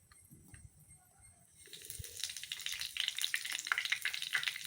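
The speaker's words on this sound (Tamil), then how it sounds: "நெய்யை நல்லா சூடு பண்ணிவிட்டு அதில் ஒரு பத்தே பத்து சீரகம் இதை போட்டு பொரிய வச்சுட்டு" Cumin seeds dropped into hot ghee, quiet at first, then a sudden burst of crackling, popping sizzle that stays lively and close for the rest of the clip.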